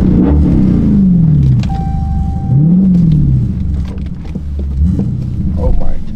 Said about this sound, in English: Let me give y'all boys some revs real quick.